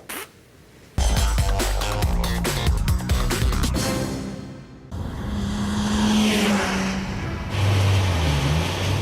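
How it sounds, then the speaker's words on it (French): A 2010 Mazda RX-8 with its rotary engine drives by loud and close, revving with sharp gear changes and a rising, buzzing engine note before a steadier cruising drone, with no talking. "Et dire qu'on a failli ne plus l'entendre, l'exotique moteur rotatif."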